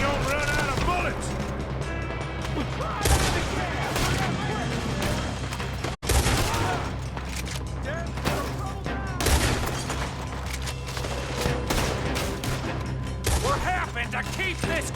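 Gunfire in the video game Red Dead Redemption 2, a dense barrage of cracking shots and bangs through the whole stretch, with game voices talking over the shooting.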